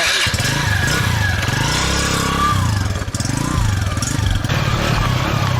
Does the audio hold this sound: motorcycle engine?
yes